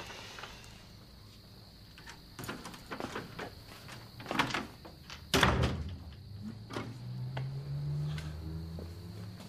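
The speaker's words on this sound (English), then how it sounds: "And close the door." A door is shut indoors in the police drama Blue Heelers, with a series of knocks and thuds leading to one loud slam midway, then softer shuffling and low rumbling, over a faint steady hum.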